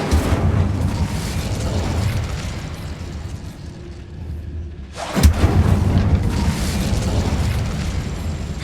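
A fire spell blast in the Hogwarts Legacy video game, cast inside a dark abandoned mine: one sharp loud burst around the midpoint, set against a steady rumbling game ambience that carries on before and after.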